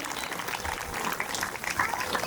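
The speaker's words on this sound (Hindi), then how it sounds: "तालियां बजती रहे।" Crowd applause at an International Yoga Day gathering in Ahmedabad, a moderately loud, continuous patter of many hands with scattered brighter claps, and voices mixed faintly underneath.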